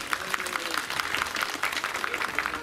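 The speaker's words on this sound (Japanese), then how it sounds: "大きな拍手。" An audience at a TV station festival stage event gives a continuous burst of clapping, a dense crackling wash of many hands that stays at a steady level throughout.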